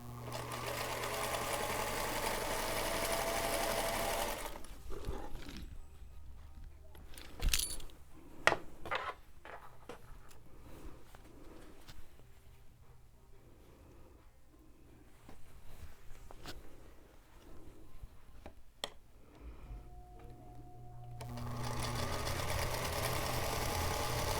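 Sewing machine stitching quilt rows together, loud steady running bursts at the start and end, with quieter stretches of clicks, taps and handling noises of fabric in between, no talk.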